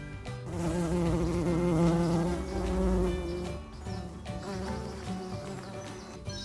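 A bee buzzes in a continuous, wavering drone close by, swelling and easing slightly, with no voices.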